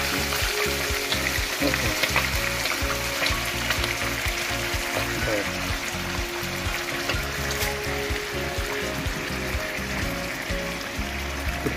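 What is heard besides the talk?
beef steak frying in a pan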